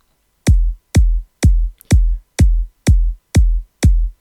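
A loud, punchy kick drum, compressed with a long attack time and volume raised, repeats eight times at a steady, even pulse, each hit tight and deep with a sharp attack.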